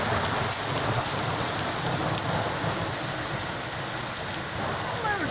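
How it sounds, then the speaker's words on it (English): Steady rain and hail pour down in a winter storm, a dense continuous hiss close by, with a low rumble of thunder blending into the downpour. "You can hear the lightning in the dead of winter."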